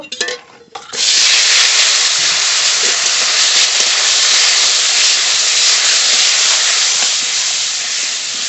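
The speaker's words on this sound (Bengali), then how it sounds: "সর্ষের তেল খুব ভালো করে গরম হয়ে গেছে এবার মাছ দিয়ে দেব" Fish frying in hot mustard oil in a wok gives a loud, steady sizzling hiss that bursts in after a brief quieter start and stays strong and even until the end.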